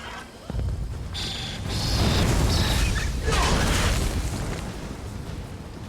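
A lightning attack in Elder Scrolls Online sets off a heavy rolling thunder boom, a loud sustained rumble that swells and crackles, mixed with game effects.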